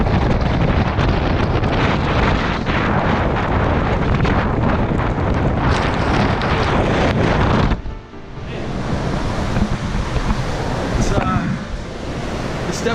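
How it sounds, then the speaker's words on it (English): Strong typhoon wind, around 60 mph, buffets the microphone in heavy roaring gusts, easing briefly near the end before rushing back, with surf-like noise underneath. "It's definitely really windy out."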